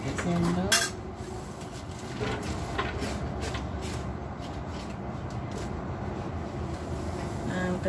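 A metal spoon scrapes the seeds out of a halved young papaya, making a continuous rough scraping and rasping close by with a few sharper knocks, and a voice talks briefly near the start.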